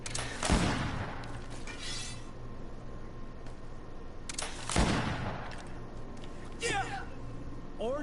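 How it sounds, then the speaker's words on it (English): Gunshots from a firearm in the game Greedfall: two loud, sharp shots about four seconds apart, each ringing out with a crackling tail, and someone talking in between. "I'm shooting right in front of you guys"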